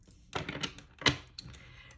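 Tarot cards riffle and flutter in a quick shuffle up close, with a burst of crisp papery clicks, a brief pause, then a second snap and a fading patter.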